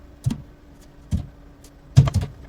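Bare feet step on metal as a sound-effect sample, giving three soft, close footfalls with faint thuds and light scuffing, spaced unevenly across a quiet background.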